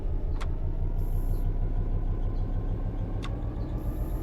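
A Class 66 diesel locomotive engine drones in a steady, loud rumble as the throttle is opened a little more, heard close from the cab with a couple of faint high clicks over the continuous noise.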